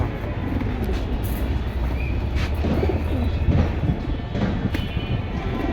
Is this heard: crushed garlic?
no